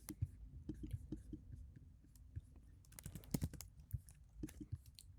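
Faint keyboard typing: sparse, irregular clicks of keys on a computer keyboard during a trading session, with some quiet breathy murmuring underneath.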